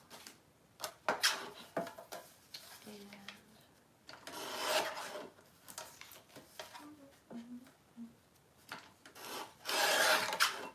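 Excess paper being trimmed from a journal collage, bursts of rasping, rubbing strokes at close range separated by quieter pauses, with a few faint voice fragments.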